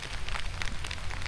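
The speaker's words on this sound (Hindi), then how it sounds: "आज सही तेज़ बारिश हो रही है।" Heavy early-morning rain in a thunderstorm, a steady dense hiss of drops drumming on surfaces, fairly loud and continuous with no thunder clap evident in this short stretch.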